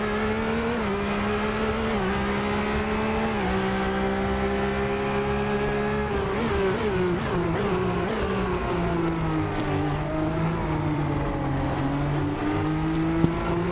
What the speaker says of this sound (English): Two V12 Ferraris sharing Imola.